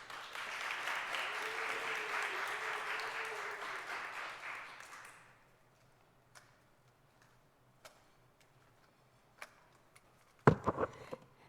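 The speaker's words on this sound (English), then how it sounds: "Please join me with a warm round of applause in welcoming City Representative Sheila Hess." A crowd applauds for about five seconds to welcome City Representative Sheila Hess at a Philadelphia mayor's press conference. Steady, dense clapping ends abruptly, followed by near silence with a few scattered taps and clicks.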